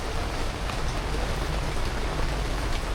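Steady, dense rain pours down in a constant hiss, close and loud, with no voices.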